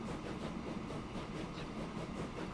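Trains rumbling in the railway simulation game Transport Fever 2 near a marshalling yard, a continuous low, rolling rumble with faint rhythmic clickety-clack, steady and fairly quiet, with no voices.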